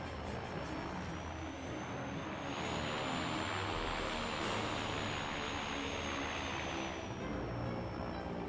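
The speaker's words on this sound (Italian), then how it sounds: "Atterraggio un po' turbolento in verità." A propeller aircraft landing roughly in the World War II flight game Blazing Angels 2, a steady loud engine drone with a whining tone that rises and falls, broad rushing noise and no voices.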